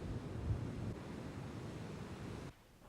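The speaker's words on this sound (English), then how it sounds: "Waves approaching a gently sloping beach break offshore and roll in." Ocean waves breaking offshore on a gently sloping beach and rolling in, a steady broadband wash with wind rumbling against the microphone, dropping quieter near the end.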